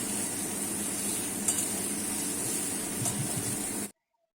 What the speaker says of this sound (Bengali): দিয়ে সব সবজিগুলোকে কিছুক্ষণ নাড়াচাড়া করে ভাজা ভাজা করে নেব